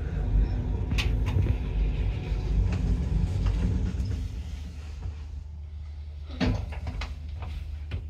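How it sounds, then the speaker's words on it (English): Lift doors open in a student accommodation building, a steady low mechanical rumble with a few brief clunks and knocks, heard close with no one speaking. "Doors are opening."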